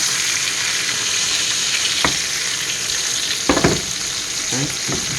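Wagyu steak sizzles steadily in a hot pan with butter, a continuous bright frying hiss throughout with a few brief clicks and scrapes of the pan or utensil.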